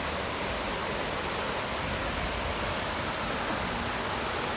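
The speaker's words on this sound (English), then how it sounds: "That's a waterfall." A waterfall formed by a flooded river rushes in a steady, broadband roar that holds unbroken throughout, with no voices.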